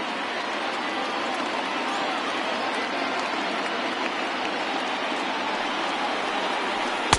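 A dense stadium crowd of over 39,000 in MLB The Show 20 roars and cheers steadily, a loud continuous wash of noise that never lets up.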